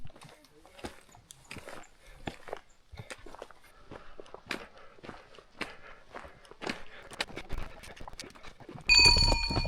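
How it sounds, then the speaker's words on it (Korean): Donkeys walk along a Himalayan mountain trail in Nepal, their hooves making an irregular series of close, sharp clip-clop steps, followed by a sudden louder burst of noise at the end. "당나귀들이 너무 많아."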